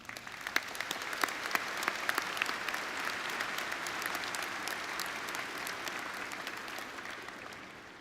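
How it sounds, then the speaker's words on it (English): Applause from the audience at a 2022 undergraduate commencement for the Eberly College of Arts and Sciences at WVU, honoring parents and families, with many sharp individual claps over a sustained, even wash of clapping. "How about a round of applause for them?"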